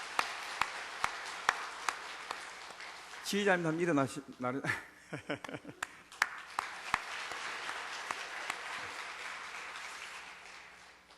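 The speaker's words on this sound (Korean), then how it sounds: "우리 격려와 응원의 박수 한번 보내겠습니다." A church congregation applauds the choir and orchestra at a Christmas service, steady clapping running under a man's speech through most of the clip.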